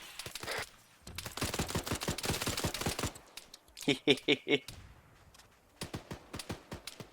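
Gunfire from a firefight in Arma 3, with rapid bursts of rifle shots in quick rhythmic volleys, some closer and sharper and others more distant, with a short pause between groups of shots.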